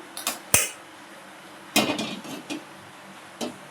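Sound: cooking pot being placed on stove

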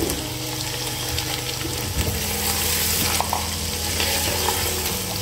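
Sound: boiled chicken added to frying pan, sizzling

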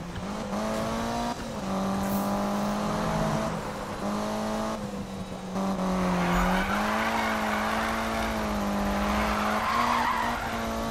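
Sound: Lancer Evo drifting with tire squeal in Need for Speed 2015 video game

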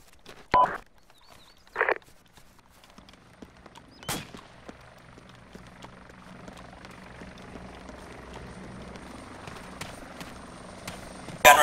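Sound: helicopter, from video game Arma 2

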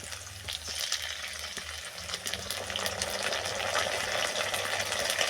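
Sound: ginger garlic paste frying with potatoes in a pan

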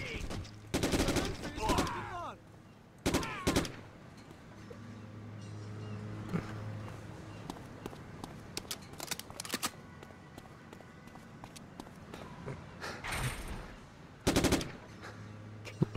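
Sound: gunfire in Hidden Target video game shooting section

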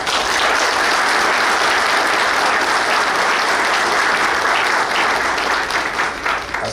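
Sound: applause

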